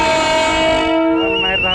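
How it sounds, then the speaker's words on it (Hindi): A Nepal Railway train rolling slowly gives a loud, close, sustained horn blast with a steady tone that drops slightly in pitch partway through. "दोसर ट्रेन छै, नेपाल रेलवे देख रहल छी लाइव। धीरे धीरे चलि रहल छै"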